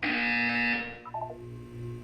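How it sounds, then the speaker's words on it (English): A loud, harsh electronic buzzer blares in the video game Portal 2 for under a second, then cuts off, leaving quieter tonal game sounds and a low hum. "When you hear the buzzer, look down at the floor"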